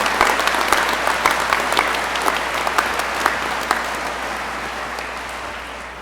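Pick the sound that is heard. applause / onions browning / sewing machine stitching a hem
applause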